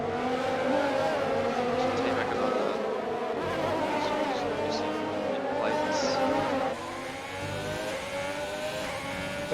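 Several Formula 1 cars buzz and whine in F1 2020 on the Abu Dhabi circuit as the race restarts, engines rising and falling through gears in a continuous close drone, with a commentator talking over them.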